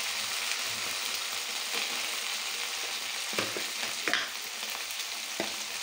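Spice paste with peas, salt and turmeric sizzles and fries steadily in a pan for a Bengali lata fish curry, with a few louder stirring scrapes and spits breaking through the constant hiss.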